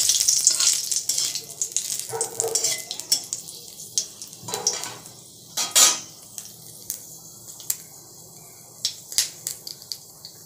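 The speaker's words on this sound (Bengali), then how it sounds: "বড়ি ভাজার পরে সেই একই তেলে ফোড়ন দিয়ে দিচ্ছি তেজপাতা, কালো সর্ষে আর মেথি" Bay leaves, black mustard seeds and fenugreek sizzle in hot oil as a tempering, with a steady frying hiss, scattered crackles and pops, and brief clinks of utensil against the pan, close and fairly loud, with no talking.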